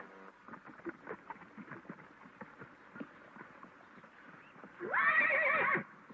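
A horse by a corral, with hooves clip-clopping irregularly on the ground followed by one loud, clear neigh near the end, in an old 1936 Western film soundtrack.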